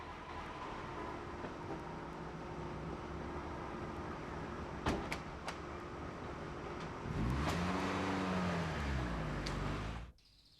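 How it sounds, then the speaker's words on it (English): A car arrives, a low engine hum swelling into a louder rising drone as it draws near before cutting off abruptly, with no talking. "Ah, here's the car."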